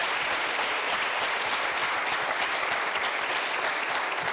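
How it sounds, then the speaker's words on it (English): Sustained audience applause fills a hall during a school district's State of Schools address, a dense, steady wash of many hands clapping at even loudness throughout, with no voices breaking through. "our Director of Schools, Dr. Shawn Joseph, another round of applause"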